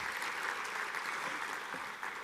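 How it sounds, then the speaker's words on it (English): Steady audience applause for a panel of experts at an African investment forum on automotive value chains, dense and continuous clapping from a hall crowd throughout. "A hand clap to our panel of experts."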